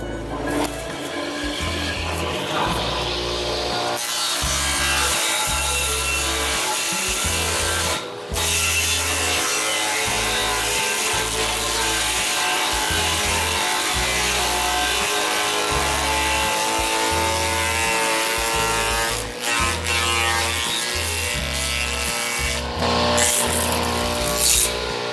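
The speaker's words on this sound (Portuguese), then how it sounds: "Vamos ver se ela corta bem o capim" A homemade grass chopper powered by a bench grinder motor runs loud and continuous while cutting grass, its steady whine broken by repeated choppy thumps as stalks feed through the blades.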